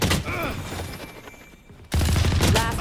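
Rapid gunfire rattles in the Valorant video game, loud and close, breaking off briefly before another burst of shots, with a voice speaking over it.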